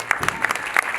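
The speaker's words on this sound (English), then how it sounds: "A big round of applause." A short burst of clapping from the audience at a school investiture ceremony, several distinct hand claps rising over a busy crowd background, brief and moderately loud.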